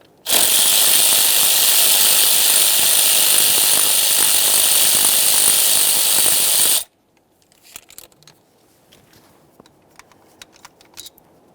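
A ratchet wrench backs out the 8mm ignition coil mounting bolt on a 2015-2020 Ford F-150 3.5L V6, a loud steady whirring run followed by a few faint clicks and metallic taps.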